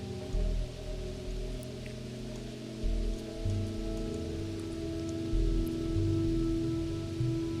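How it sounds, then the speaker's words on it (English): Rain falling in the survival video game Cataclysm: Dark Days Ahead, a continuous patter of raindrops on surfaces with a low, steady droning tone underneath. "I shouldn't actually be walking around in the rain like this."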